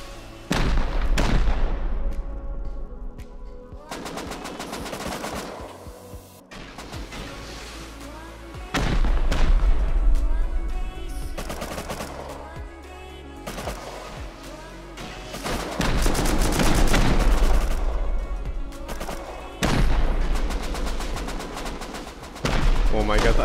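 Repeated rocket explosions and gunfire in Rust, loud booming bursts recurring every few seconds with quieter stretches between them, and a voice talking over the action.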